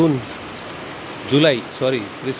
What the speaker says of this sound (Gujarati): અહીંયા વરસાદ વરસી રહ્યો છે